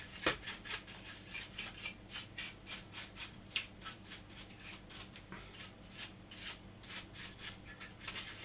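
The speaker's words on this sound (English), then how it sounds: "I'll just go round the outer edges of this with the brush" A brush scrubs around the dusty outer edges of a retro Nintendo console in a steady rhythm of short, dry rasping strokes, close and fairly quiet with no talking.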